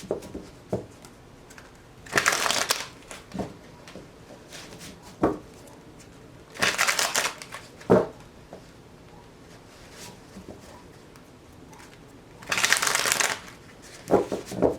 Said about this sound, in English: Two more shuffles for Aries.